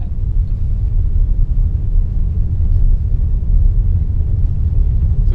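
A VW Passat GTE hybrid rolls over cobblestones, heard from inside as a steady low rumble of tyres and road noise with no voices.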